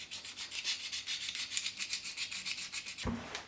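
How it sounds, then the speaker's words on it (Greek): Wooden pen blanks are roughed by hand with 200-grit sandpaper, a quick series of rhythmic, close, scratchy strokes, about a dozen back-and-forth rubs, ending with a soft knock. "Για να πιάσει καλύτερα η κόλλα θα τα αγριέψω με λίγο 200 γυαλόχαρτο."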